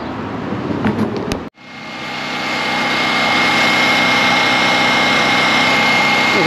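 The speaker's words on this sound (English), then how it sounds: "I have the generator running" After a brief noise and a sudden cut, a generator engine powering concrete curb repair drones loudly and steadily, a constant broadband roar that never lets up.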